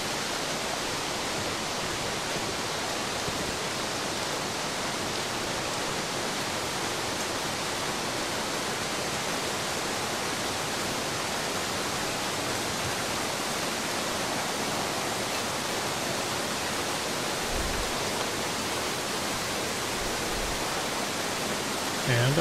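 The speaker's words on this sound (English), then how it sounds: "Or down this waterfall." A waterfall in the video game The Long Dark gives off a steady, loud and unbroken rush of falling water that fills the whole stretch and barely changes, with a couple of faint low bumps near the end.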